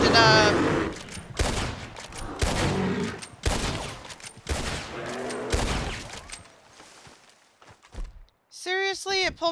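Rapid bursts of gunfire from a gun in the Red Dead video game, with a grizzly bear encounter, several loud sharp shots in quick succession, mixed with game sounds and someone talking.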